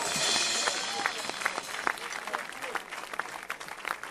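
A church congregation bursts into lively clapping at a worship service, loud at first, then settling into scattered, uneven claps that carry on to the end.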